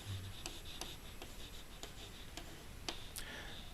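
Pen or pencil writing by hand on paper, a soft scratchy scrawl with several quick, faint strokes and ticks spread across a quiet room, no voices.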